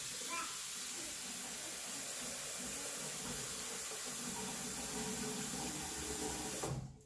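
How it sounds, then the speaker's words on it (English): Lukewarm tap water runs steadily into a bowl in a home kitchen, a continuous loud splashing hiss that stops abruptly at the end. "Get a bit of lukewarm water in this bowl."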